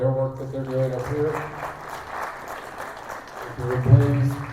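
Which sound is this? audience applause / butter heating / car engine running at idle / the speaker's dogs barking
audience applause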